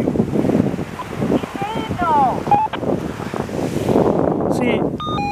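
Light sea breeze on Bonassola beach buffets the microphone with soft gusts and surf-like rushing, while faint whistling tones and voices come and go in the background.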